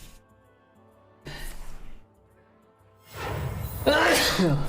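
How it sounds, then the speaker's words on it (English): A person sneezes loudly close to the microphone during a Hearthstone game, preceded by breathy gasps. "I gotta sneeze."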